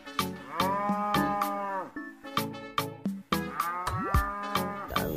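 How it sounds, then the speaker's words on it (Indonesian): A white cow moos repeatedly in long, loud, close lows, broken by sharp clicking knocks between the calls. "Wow, lihat teman-teman, ada sapi berwarna putih."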